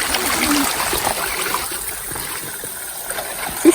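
Cold stream water flowing steadily during a fiddlehead-gathering outing in the Nepali hills, a continuous near trickle and rush with no pauses.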